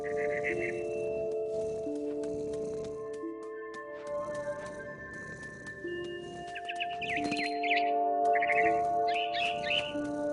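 A mother bird chirps in the video game What Remains of Edith Finch, several short bright tweet bursts over a sustained ambient musical drone, moderately close.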